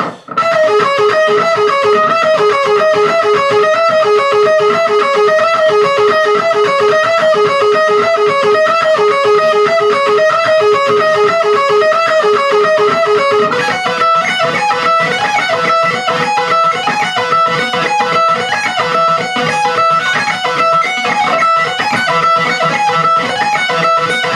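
Loud distorted electric guitar playing a fast riff with a harmony line layered over it, continuous and driving throughout.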